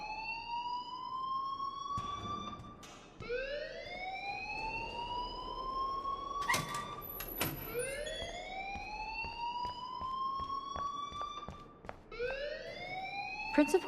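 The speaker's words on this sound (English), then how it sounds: "please turn off that alarm since that's your job" A fire alarm in the video game Life Is Strange wails in repeated rising whoops that sweep upward every couple of seconds. It stays fairly loud and continuous, broken by a few sharp clicks and knocks.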